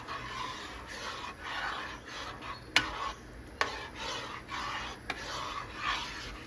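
A spoon stirs mutton yakhni pulao in a pot with steady scraping, rasping sweeps, punctuated by a few sharp clicks of the utensil against the pot rim, close and alone.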